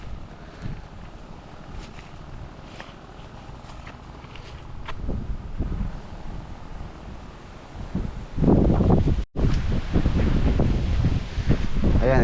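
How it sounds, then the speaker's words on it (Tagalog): Outdoor wind gusting across an open site, starting as a steady faint rush and swelling into loud buffeting against the microphone in the last few seconds, with brief talk in between. "Uy, sarap ng hangin."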